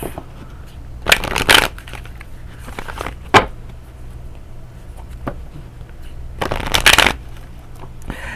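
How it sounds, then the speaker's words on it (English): Tarot cards are shuffled close by in several quick riffling bursts separated by short pauses, with a single sharp snap as a card is drawn in between, and no talking. "let's go ahead and pull your moon card, Aries"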